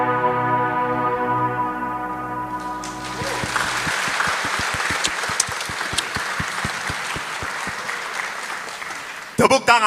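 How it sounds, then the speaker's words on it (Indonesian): Audience applause in a church hall after a priests' roast event, starting under a sustained musical tone and voice, then settling into steady clapping with distinct close claps, ending with a few louder bursts. "Tepuk tangan untuk Karis, Bapak Ibu."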